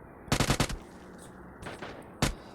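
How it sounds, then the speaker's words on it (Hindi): Automatic gunfire from the video game PUBG rattles in a short rapid burst, followed by a fainter volley and a single loud shot, heard alone without talk. "ये देखो फायरिंग कर रहा है"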